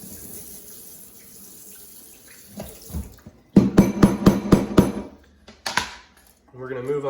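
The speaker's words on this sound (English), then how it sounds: "we're going to rinse off our board here." A cutting board is rinsed under a kitchen tap, with water running and a quick series of sharp knocks and clatters against the sink, close by, followed by a brief spoken voice.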